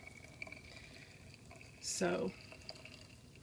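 Water is poured into a bamboo travel tumbler through its filter sieve holding a tea leaf, a brief splashing gush in the middle of a quiet stretch with a short spoken word at the start.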